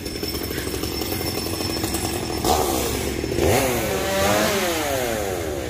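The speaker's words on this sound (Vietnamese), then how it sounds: "Hiện tại thì Hiền đang cưa hạ gốc cây me xíu à." Chainsaw cutting down a tamarind tree beside a rural Vietnamese shrine, a steady close engine drone with rising, wavering pitch sweeps as the blade bites into the trunk, no talking.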